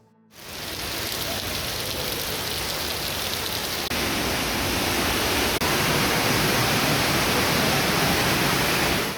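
Rainbow Falls at Watkins Glen, a waterfall whose steady, dense roar of rushing water fades in after a short quiet start and then holds loud and unbroken throughout.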